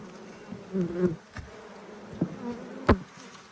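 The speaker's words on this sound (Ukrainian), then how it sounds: "Бачите, бджілки працюють, вже почали печатати" Honey bees working at an apiary hive buzz close by, their drones rising and fading as individual bees pass near, with a few sharp knocks and taps in between.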